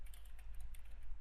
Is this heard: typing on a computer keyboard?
yes